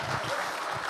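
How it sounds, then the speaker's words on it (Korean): Applause from a congregation welcoming a speaker at a church dedication and founding service, a dense, steady patter of many hands lasting about a second. "큰 박수로 맞이하겠습니다."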